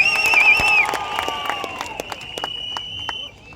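Crowd applause at a Tamil political rally crackles with scattered claps, loud at first and thinning out over a few seconds, with a high tone fading beneath.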